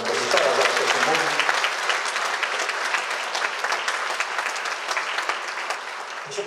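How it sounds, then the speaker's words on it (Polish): A concert audience in Sosnowiec applauds the composer after a performance, with loud, dense, sustained clapping from a full hall that holds steady and only slightly thins toward the end. "Proszę o brawa dla kompozytora"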